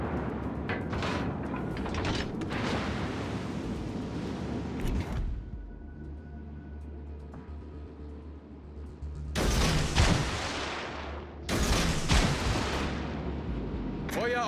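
Warship guns fire in the naval combat video game World of Warships: Legends. Heavy booming salvos and rumbling blasts come in clusters, with a quieter mechanical lull in the middle, and game voice callouts can be heard at points.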